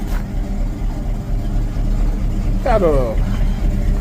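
1983 square-body truck with a 350 engine revving once, a rising mechanical surge partway through over steady engine rumble, with someone talking over it.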